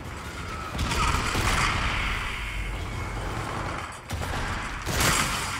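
Sustained automatic fire from an ACR rifle in Infinite Warfare, a loud continuous rattle with a brief break before resuming, heard alone without talk.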